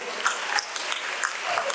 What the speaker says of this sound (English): Put your hands together for them also.